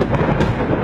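A thunder sound effect in a recited Arabic poem: one loud, deep rumble with crackling bursts, alone and close, with no voice over it.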